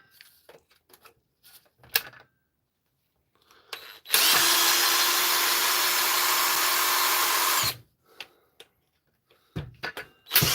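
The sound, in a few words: drill used to take apart a Dewalt tool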